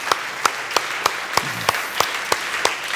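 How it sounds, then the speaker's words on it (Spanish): A church congregation applauds, with a soft bed of scattered clapping and sharp, evenly spaced claps from a nearer pair of hands punctuating it about three times a second. "Un aplauso al Señor"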